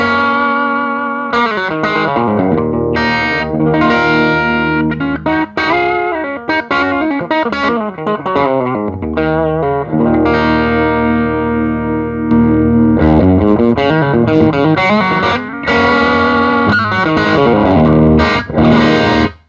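Overdriven electric guitar chords and single-note runs ring out loud and close through a Marshall Origin 20C valve combo amp, miked at the speaker cone centre, with steady distortion and a touch of room echo.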